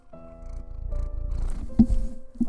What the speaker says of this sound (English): can you hear him purr?